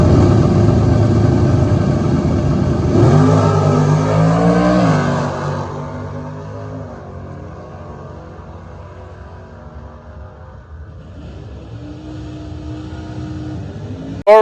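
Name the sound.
drag racing car accelerating down strip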